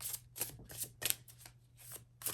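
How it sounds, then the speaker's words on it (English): A deck of tarot cards is riffle shuffled in several quick, close bursts of crisp fluttering clicks, quiet and alone. "Spirit is asking me to riffle shuffle again"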